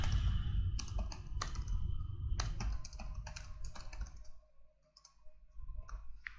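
Urdu text goes into a computer keyboard as a run of crisp, close keystrokes, fast at first, then slowing with a brief pause before a few more taps.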